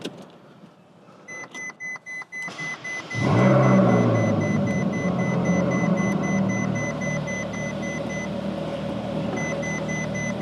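A 2014 Ferrari California's retractable hard top raising: a series of short clicks and beeps, then a steady electric motor whir with whining hydraulic tones, loud and close, running continuously without speech.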